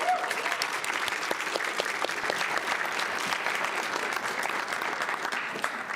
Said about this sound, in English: Can we get another round of applause for our guests